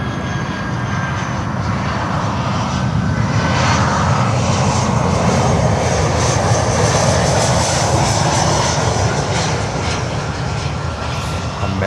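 A large Amerijet cargo jet inbound from Brussels roars continuously and loudly at Miami airport, a steady broadband engine rush that holds without a break.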